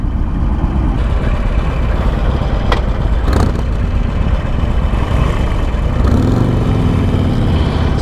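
A Harley-Davidson Iron Sportster 1200 motorcycle rides along in first gear, its engine giving a steady, loud low rumble mixed with wind rush, with a slight rise in pitch near the end.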